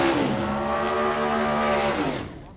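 Loud drag racing car roaring down the strip at the 1998 Konica Winternationals in Australia, a sustained high-revving engine note holding steady then fading away at the end.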